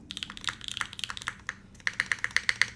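Typing on a custom mechanical keyboard fitted with Popu switches, a quick run of crisp poppy keystrokes, close and clear with no talk, ending in a brisker, sharper burst of clacks.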